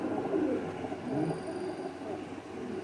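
Rampuri pigeons cooing: soft, low, rolling coos repeating in a few short phrases, fairly faint against a quiet background hum, with a faint high tone in the middle.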